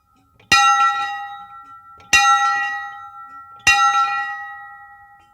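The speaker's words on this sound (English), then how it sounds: "For the 17th time, the ringing of the bell by the 2020 Teacher of the Year, Miss Terry Hartman, signifies the beginning" A bell-tower bell rung to open a graduation ceremony strikes three times at slow, even intervals, each clear, ringing strike hanging and fading before the next.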